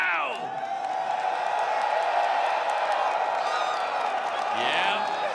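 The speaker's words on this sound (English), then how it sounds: "You lovely people in the crowd. If you like Hikari, let them know right now" A packed esports arena crowd roars and cheers at the 2XKO grand finals at EVO 2026, with sustained loud applause and scattered whoops swelling near the start and end.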